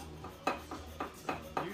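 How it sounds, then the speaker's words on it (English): Fresh ginger is scraped across a small grater into a little shaker, five quick rhythmic rasping strokes, close and quiet. "we're going to grate just in our little handy dandy shaker here about 1/3 of a teaspoon"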